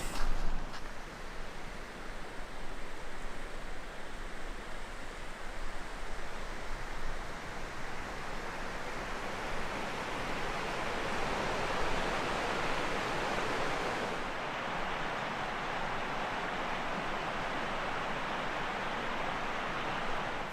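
Labarge Creek in the Superstition Wilderness runs in a soft, steady rush of water heard from the bank, faint and unbroken, with a slight shift in tone partway through.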